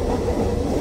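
Train carriages rolling on rails on a Thai rail trip toward Mae Klong, a loud, close, steady rumble of wheels and car body with no voices.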